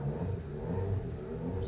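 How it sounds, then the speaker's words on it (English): Engine rumbling steadily in the background, a faint low drone that holds throughout the short stretch with no talking over it. "Excuse the engine noises there."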